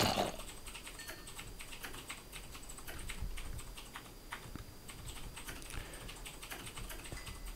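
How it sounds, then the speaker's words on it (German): Rapid, hard typing on a computer keyboard during a Minecraft gaming session, dense clattering keystrokes running steadily throughout, fairly close and moderately loud with no talk over it. "Haust du so krass auf der Tastatur rum oder was ist das?"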